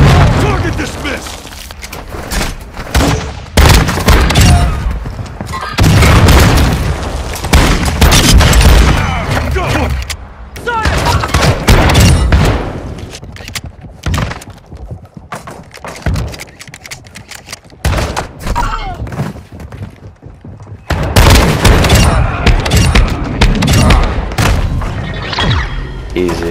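Claymore blasts and bursts of gunfire in Modern Warfare 2 Infected mode, heavy booms and rapid shots crowding in loud waves over several seconds, with players shouting throughout.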